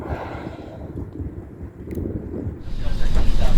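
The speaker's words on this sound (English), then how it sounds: "And just like that, we got a big gust." Strong wind buffets the microphone on a sailboat, building into a louder, sustained gust toward the end with a steady rushing roar.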